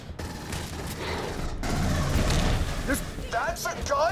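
A fast-firing gun in the sci-fi shooter Aliens: Colonial Marines rattles off rapid, dense bursts that stop briefly and then resume, with someone talking over the gunfire.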